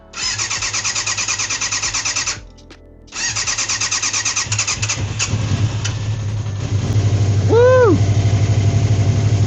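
A neglected 1980s sportbike engine with no choke cranks, catches and starts, then settles into a loud, steady idle with a few blips of revs; a short pause interrupts early cranking, and a person briefly cheers.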